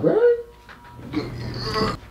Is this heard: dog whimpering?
yes